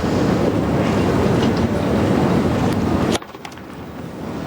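Heavy wind buffets a microphone with a loud, rumbling roar for several seconds, then abruptly drops to a quieter hiss with faint ticks.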